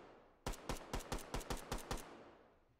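A small Glock pistol firing tracer rounds in the VR shooting game H3VR, eight sharp loud shots in a quick, slightly uneven string, then a fading echo into quiet.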